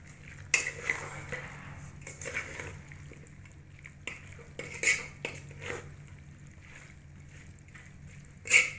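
Vegetables being stirred into masala in a pot for aloo mongray salan, a spoon scraping and clinking against the metal in a few separate strokes, fairly quiet, with no talk.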